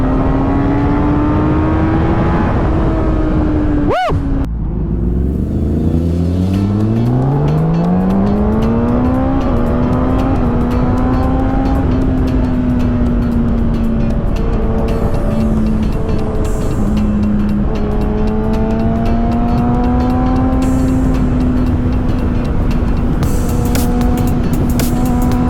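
A 2017 Kawasaki ZX10R with a flashed ECU and quick shifter races on a track, its engine note rising and falling through quick gear shifts with a sharp pop, loud and close, under constant wind rush.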